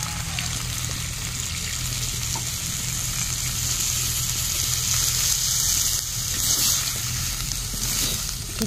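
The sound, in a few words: chicken curry simmering in water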